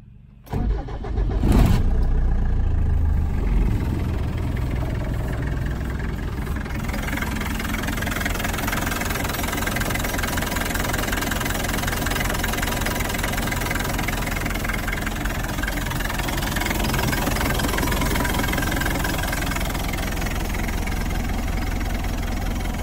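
A 1990 Land Rover 90 diesel engine cranks and fires, then settles into a steady, loud, even idle that runs unbroken for about twenty seconds.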